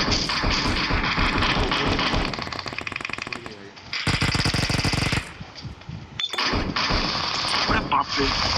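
Bursts of rapid automatic gunfire from the mobile game BGMI rattle loudly in close, dense volleys, broken by brief quieter gaps.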